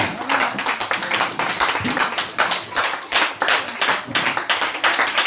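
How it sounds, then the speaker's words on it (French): A crowd at the close of a Christian mission event in Sokodé, Togo, clapping in quick rhythmic bursts, loud and close, with some faint voices mixed in. "Si tu es content, acclame pour Jésus."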